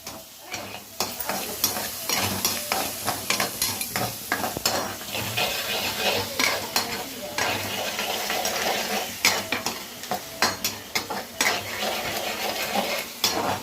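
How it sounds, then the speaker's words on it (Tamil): Onions sautéing in oil for a tamarind brinjal fry, with a spoon repeatedly stirring and scraping the pan. A steady close sizzle runs throughout, punctuated by frequent sharp metallic scrapes and clinks, with no talking. "இப்போ வெங்காயம் வதங்கட்டும்"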